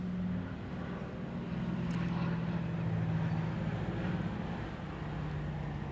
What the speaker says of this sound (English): Warbird noise is so cool, but electric doesn't make noise.